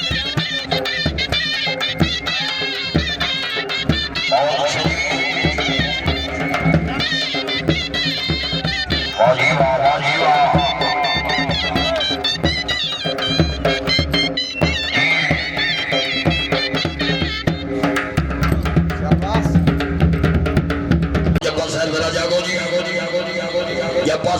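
At a horse dance event, a horse whinnies and neighs repeatedly amid loud festive music and an announcer's voice, with hoof clip-clops mixed into the busy, continuous sound.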